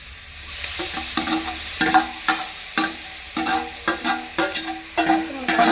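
Tomatoes and green chillies sizzle in a hot pan while a spoon scrapes and stirs in regular strokes, with no talking.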